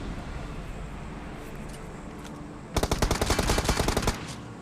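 Automatic gunfire from an M416 and Uzi loadout in a PUBG Mobile solo-versus-duo match, a dense burst of rapid shots lasting about a second and a half after a steady low background, loud and close.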